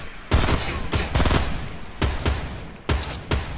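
Bursts of Fortnite gunfire during a 50v50 match: several loud volleys of rapid shots in clusters, with short gaps between them and no talking.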